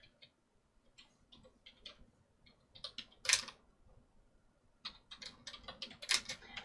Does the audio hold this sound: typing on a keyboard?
yes